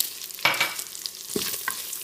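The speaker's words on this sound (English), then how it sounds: "So my bacon's been simmering away here for a few minutes" Bacon with butter sizzling and crackling in a Cosori pressure cooker pot, with a few sharp stirring scrapes and pops over a steady frying hiss, fairly close.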